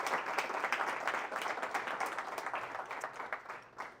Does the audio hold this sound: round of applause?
yes